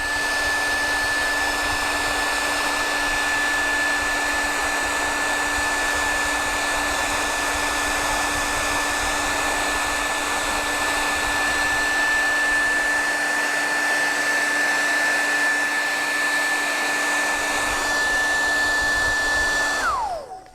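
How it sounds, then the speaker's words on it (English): A hair dryer blows steadily on painted paper, a loud constant whir with a stable motor whine running for about twenty seconds before it is switched off and winds down at the end. "what you could do, dry it with the hair dryer."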